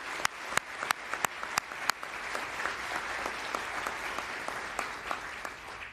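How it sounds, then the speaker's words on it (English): Audience applause at an award ceremony, a steady wash of many hands clapping, with a few sharp, close claps standing out early on before the sound settles into even clapping. "Let's give them a round of applause"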